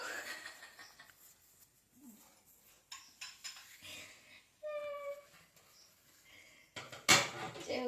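Glass cups and plates are handled in a display cabinet, with scattered clinks and light knocks, a sharp ringing clink, and a loud clatter near the end, close by with faint background voices.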